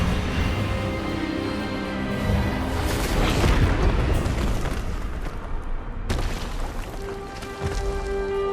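An Expelliarmus spell is cast during a duel in Hogwarts Legacy. It comes as a loud roaring magical blast that swells over a dense orchestral and ambient bed and then cuts off sharply with a burst.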